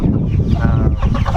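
Small bantam chickens clucking close up, a few soft rhythmic clucks over a low rumbling background.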